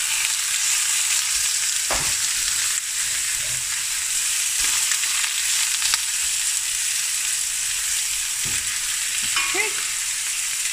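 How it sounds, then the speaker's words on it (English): Lamb for a butternut stew browns in a pot with a loud, constant sizzle, broken by occasional scraping stirs and clinks, and a brief spoken word near the start. "the meat is browning"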